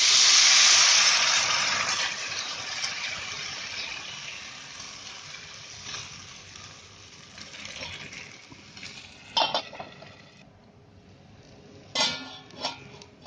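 Oil hissing on a hot griddle while a jaggery gul poli cooks, a broad steady sizzle that starts loud and slowly settles, with a few brief clinks of a utensil near the end.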